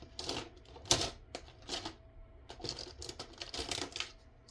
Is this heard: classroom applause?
no